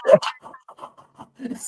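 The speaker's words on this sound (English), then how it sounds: "so that's my dog panting, not my husband" Dog panting close by in a short series of quick, breathy puffs, loud at first and then softer and uneven.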